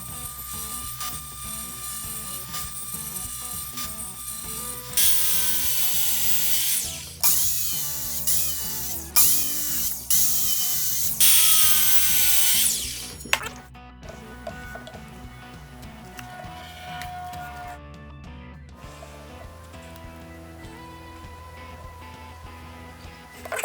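Power tools cutting pressure-treated 2x6 boards for a raised planter box base: several loud bursts of whining saw cuts separated by quieter clicks, ratcheting and handling noise.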